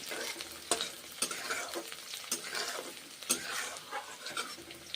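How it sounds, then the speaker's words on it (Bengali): Green chillies frying in hot oil with onion and garlic in a pan, a continuous soft sizzle broken by regular scraping stirs, fairly faint and with no talking. "এইভাবে কাঁচা লঙ্কাগুলো দিয়েছি"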